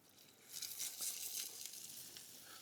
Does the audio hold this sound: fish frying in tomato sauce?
yes